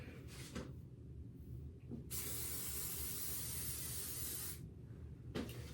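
Joico heat protectant sprayed onto hair in a few pumps: two short bursts, then one long steady hiss lasting over two seconds, and a final short puff, close and clear with no talk.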